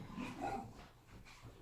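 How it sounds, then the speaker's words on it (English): Dogs playing indoors, whimpering and giving small yips in a few short bursts, fairly faint and close, with no talk over them. "Excuse the dogs, they're playing."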